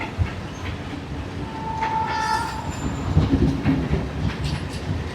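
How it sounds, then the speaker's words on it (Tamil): A train rumbles past close by on a seaside line in Wellawatte, Colombo, with wheel clatter throughout and a brief horn blast midway, loud and steady for several seconds with no talking. "ட்ரெயின் ஒன்று போகுது பாருங்க பின்னா."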